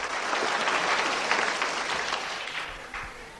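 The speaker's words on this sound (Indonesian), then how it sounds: "Tepuk tangan buat Tuhan Yesus" A church congregation breaks into applause, a dense, close wash of clapping that holds steady and then gradually thins out toward the end.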